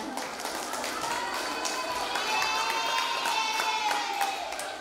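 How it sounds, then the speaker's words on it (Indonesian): Applause from a crowd in a large room rolls along steadily, with faint cheering and chatter mixed in, for a school class at a choir competition. "Tepuk tangan untuk kelas 10-3."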